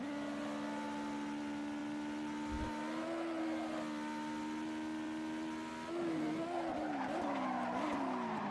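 A race car spinning out during a qualifying session in Assetto Corsa, a sustained engine drone with tires squealing and skidding, the pitch wavering and rising sharply near the end, no one talking.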